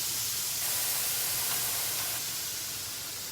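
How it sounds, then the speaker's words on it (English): Steady, broadband sizzling hiss of zucchini frying in a hot pan, continuous and fairly loud with no voices. "You can hear them sizzling already, and they'll get nice and translucent."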